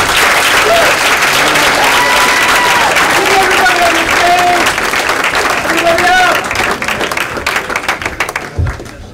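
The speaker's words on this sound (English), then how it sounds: "Give a round of applause!" Loud, close applause from an improv show audience fills the room, dense clapping with cheers and voices mixed in, thinning out near the end.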